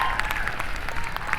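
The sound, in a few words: audience applause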